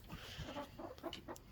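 Broody hens cluck softly in a coop, a run of short, close, low clucks in an uneven rhythm with no other sound over them.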